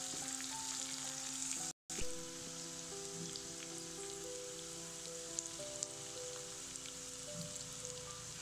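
Green chilies fry in a pan without salt for a spicy garlic-chili dish, a soft, even crackling sizzle close by, broken once by a brief dropout.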